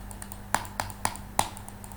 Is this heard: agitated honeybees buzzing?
no